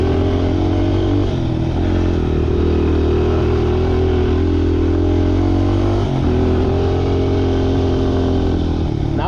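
Motorcycle ride on a warm, breezy day: a loud, steady engine drone heard close from the saddle, with slight shifts in pitch as the rider eases off and picks up speed, and wind noise throughout.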